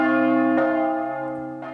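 Church bell ringing with a sustained, rich tone, struck again partway through and once more near the end while the hum slowly decays.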